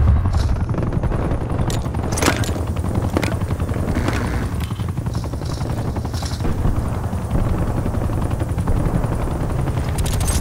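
An enemy attack helicopter hovers overhead in the video game Call of Duty: Black Ops Cold War, its dense rotor roar steady throughout, with bursts of gunfire and sharp shots cracking over it.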